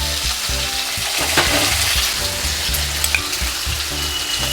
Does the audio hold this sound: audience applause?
no